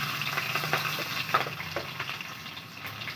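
Spices and green chilies frying in a pan, a steady close sizzle broken by scattered pops and the scrape of stirring, with no talking.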